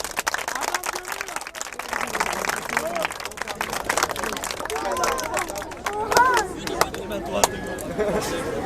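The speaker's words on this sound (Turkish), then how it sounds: "Bence alkışlayın." A family group plays a penalty challenge game and breaks into a patter of clapping hands, steady and fairly close, mixed with voices talking and chattering throughout.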